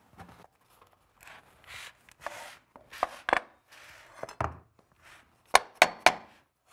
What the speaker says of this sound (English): Then we'll repeat the process by using the pull bar along the long end.